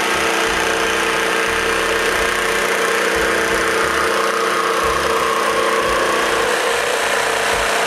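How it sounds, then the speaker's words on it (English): A jigsaw cuts a notch in a wooden board for the bottom of a shop wall, a loud continuous buzzing drone with a faint rhythmic low chatter throughout. "I measure the notch and cut it with the jigsaw."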